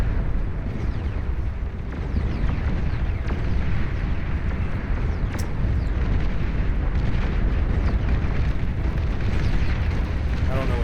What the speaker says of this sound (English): Titans with nothing better to do, just shooting down nuclear bombers.